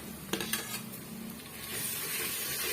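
Ginger-garlic paste is stirred into sautéed onions in a pan for a chicken gravy. A few sharp spoon scrapes and clinks against the metal pan sit over a soft, steady sizzle that grows a little louder toward the end.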